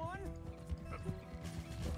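A horse gallops in Red Dead Redemption 2, its hoofbeats running steadily under a busy game mix with voices, a brief whinny and music-like tones throughout.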